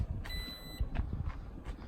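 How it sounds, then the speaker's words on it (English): A 2019 Jeep Grand Cherokee Limited tailgate gives a short high electronic beep as it is closed, faint, over low outdoor background noise. "to close the trunk right here, close it, makes a beeping sound"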